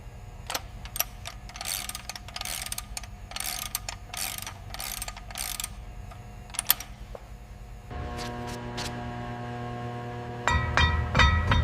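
A transmission pan is bolted onto a restored 1967 Ford Mustang gearbox, starting with a run of quick ratchet clicks in bursts, then a steady whirring power-tool drone with tonal hum and sharper rattling near the end, all close.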